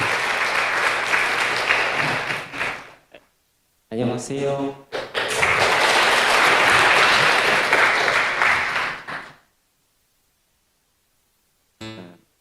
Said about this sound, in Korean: 자, 우리 다 같이 박수로 격려하겠습니다.